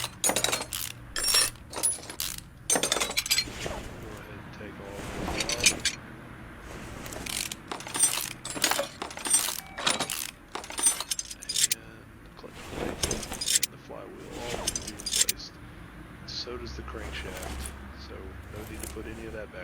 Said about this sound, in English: To the clutch parts. Go ahead and take all of them off.